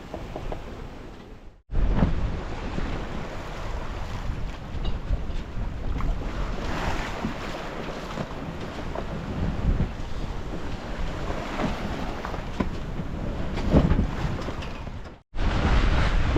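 Sailboat under sail in a steady 10 to 15 knot trade wind on an ocean crossing, with a continuous loud rush of wind across the microphone and water sloshing past the hull, brief cutoffs at the start and end.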